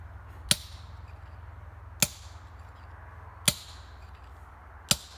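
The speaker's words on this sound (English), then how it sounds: "They would take their hammer and their drill bit and go to town." Hammer blows on a steel drill bit while hand-drilling rock, as done building the first railroad over the Alleghenies: four sharp metallic strikes spaced about 1.5 seconds apart, each ringing briefly over a low steady background hum.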